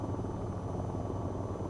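Steady rotor drone of an AH-94 attack helicopter in the flight game VTOL VR, a continuous low whirring hum heard alone at moderate volume.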